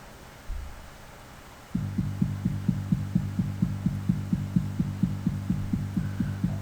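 A sidechain-compressed bass in Ableton Live pulses in a steady, even rhythm, each beat swelling and ducking after a short low thump. It sits over a faint hiss, with no talking.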